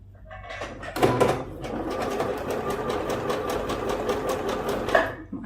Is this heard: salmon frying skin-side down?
no